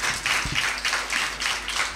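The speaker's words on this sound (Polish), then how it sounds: "właśnie te brawa" An audience at a school talent concert claps for young performers in loose, pulsing bursts that swell and fade roughly twice a second, moderately loud and close.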